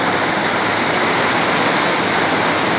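Loud, steady rushing of river water fills the whole clip, a dense continuous roar with no pauses and no voices.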